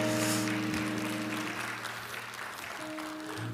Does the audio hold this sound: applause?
yes